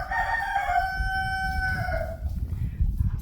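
Roosters and chickens out of their coop crow loudly nearby, one long drawn-out cock-a-doodle-doo followed by lower clucking and scratchy farmyard noise.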